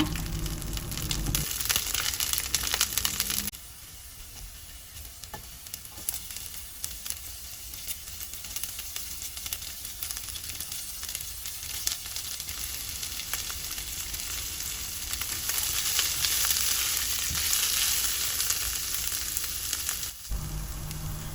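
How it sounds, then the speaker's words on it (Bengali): Steady crackling sizzle of garlic and onion frying in hot oil, loud and continuous, with brief stirring noises and a louder burst near the start and end. "এখন আমি রসুন আর পেঁয়াজ ভেজে নেব ভর্তার জন্য"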